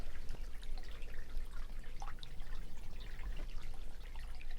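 Water tumbling and trickling through a drying wetland, a continuous close babble with quick drips and splashes, fairly quiet and with no voices.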